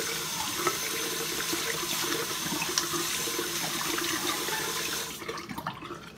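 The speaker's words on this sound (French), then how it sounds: "je vais venir laver mes mains!" Water runs hard from a tap as hands are washed. The flow is steady and splashing, close by, then it tapers and turns to scattered drips and splashes near the end.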